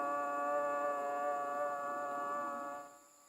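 A civil defense warning siren sounds one long, steady blast, a loud sustained tone with rich harmonics holding level before fading and cutting off near the end, heard alone without voices.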